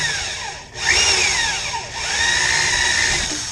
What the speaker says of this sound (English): We're going to drill out the center of that rivet right there.